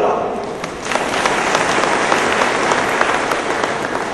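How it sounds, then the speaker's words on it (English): Sustained thunderous applause from a crowd at a bank chairman's speech event, dense and steady clapping filling the whole stretch without letting up. "I think this requires a thunderous applause from the crowd"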